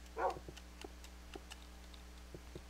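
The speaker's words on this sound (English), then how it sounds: "You have a cute little doggy." In a Minecraft UHC match, a dog gives one short, faint bark near the start, followed by quiet, scattered game ticks and clicks over a low steady hum.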